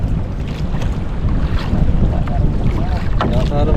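Strong wind roars and buffets the microphone continuously on a fishing boat at sea, a loud, dense rumble with water noise underneath and no clear pauses.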